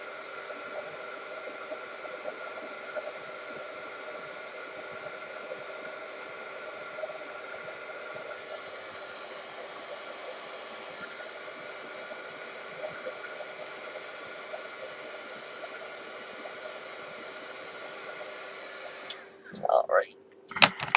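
A heat tool blows a steady, loud whooshing hum for about nineteen seconds while heat-setting embossing on a homemade Christmas card, then cuts off with a few handling clicks and rustles.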